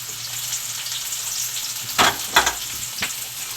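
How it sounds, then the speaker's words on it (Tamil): Mustard seeds, onion and chilies fry in hot oil, giving a steady crackling sizzle with a few louder spitting pops midway, close and alone with no talk. "இப்போ எண்ணெய் காஞ்சிருச்சு, கடுகை போட்டுக்குவோம்."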